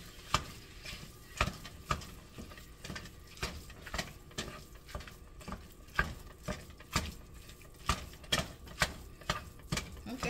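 Ingredients are broken up and stirred in a frying pan for lasagna roll-ups, with repeated sharp spatula scrapes and taps at an uneven rhythm over a soft background sizzle.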